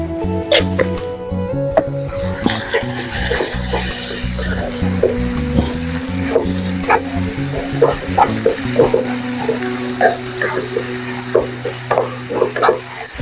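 Onions sauté in a pan with salt for a dhaba-style chicken curry, a loud, steady sizzle and frying crackle broken by repeated scrapes and stirs of a spoon, with a low hum underneath throughout.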